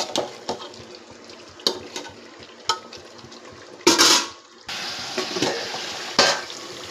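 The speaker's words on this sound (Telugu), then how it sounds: "బాగా మిక్స్ చేసుకుంటున్నాం." Chicken biryani mixture with mint and coriander being stirred in a pot, with wet scraping and clanking of a spoon against the metal at irregular intervals and a longer squelching sweep, close-up with no talk.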